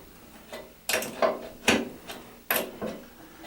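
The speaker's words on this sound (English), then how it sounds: "So now all you need is an adjustable wrench, and we're just going to loosen the nuts" An adjustable wrench loosening the nuts on toilet bolts at the base of a toilet, heard as a handful of sharp metallic clicks and scrapes in an uneven rhythm, close and moderately loud, with no talk.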